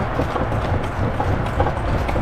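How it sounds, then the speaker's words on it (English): Horse hooves clip-clop at a steady trot from a horse-drawn carriage in Merida, Mexico, close and continuous over street background noise, with no talking. "The horse-drawn carriage ride, everything about this town has been absolutely spectacular."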